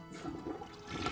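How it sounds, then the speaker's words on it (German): A toilet flush in the video game My First Horse: a short burst of gushing, splashing water at moderate volume that swells slightly toward the end, heard alone. "Wir können die Klospülung betätigen."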